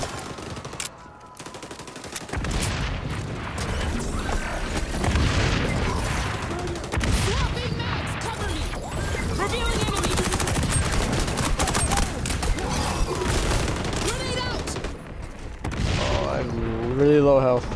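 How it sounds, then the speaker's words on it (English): Gunfire in an XDefiant multiplayer match: dense bursts of automatic fire and scattered shots run almost continuously and loudly, with someone talking over the shooting. "He's fucking shooting at me, bro."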